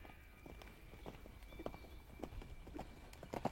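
Horse hooves thud in an irregular canter rhythm on soft riding arena footing, moderately close and fairly quiet, with light background noise during a riding lesson.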